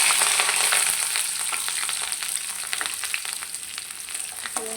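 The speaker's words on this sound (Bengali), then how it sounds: "এখানে তেল গরম করে নিচ্ছি, এখন পেঁয়াজ আর কাঁচামরিচটা দিয়ে দেবো।" Onion and green chili fry in hot oil, a continuous sizzle with scattered pops and stirring, loud at first and easing slightly, with no talk.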